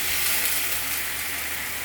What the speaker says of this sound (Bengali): তো এখন আমি একটু পানি দিয়ে দিলাম